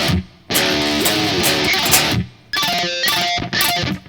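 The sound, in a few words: electric guitar playing chorus ending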